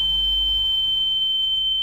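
A steady electronic alarm tone rings without a break in the video game The Town of Light, loud, sustained and alone, with a low hum fading out early.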